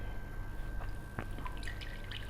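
Garlic juice drips and squishes from a squeezed milk bag into a bowl, a few quiet separate drips and small wet sounds over low background hum.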